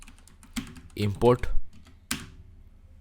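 Computer keyboard keys click in a few short bursts while someone talks through the typing.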